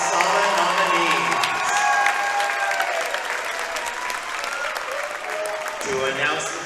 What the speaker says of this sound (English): let's hear a nice big round of applause for all of your 2016 Casaba nominees.